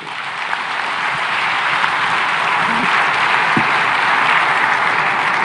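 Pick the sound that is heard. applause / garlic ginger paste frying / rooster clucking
applause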